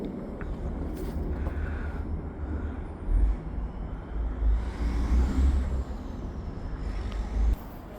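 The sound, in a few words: freight train air brakes releasing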